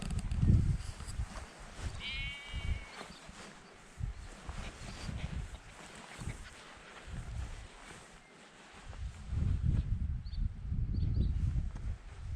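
Sheep bleat in short, scattered calls outdoors near a castle while a dog chases the flock, with wind or handling noise and a louder stretch of bleating toward the end.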